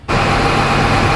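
A Cummins diesel truck engine on a dyno starts suddenly and then holds a loud, steady, broadband roar for a short burst.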